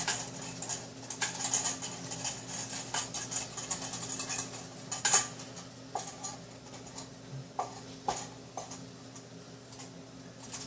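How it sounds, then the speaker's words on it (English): Flour and butter are stirred into a sauce in a pot for root beer braised short ribs, giving irregular light clicks and utensil taps against the pot. "you just want to stir it up. Mix the flour and the butter back together."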